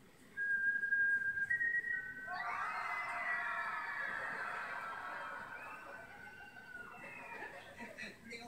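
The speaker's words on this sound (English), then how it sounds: "If you hear a whistle" A shrill whistle sounds, first thin and steady, then a louder, fuller blast that holds for several seconds before fading.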